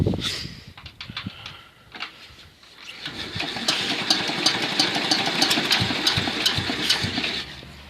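A walk-behind tractor engine cranking with a few uneven coughs, then catching and running at a steady, rough, knocking idle, loud and close, with no talk.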